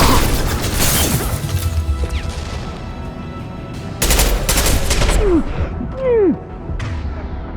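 Bursts of gunfire and impacts crackle through a firefight on Omega in Mass Effect 2, loud and close, with rapid volleys, crashes and sweeping whooshes over a few seconds.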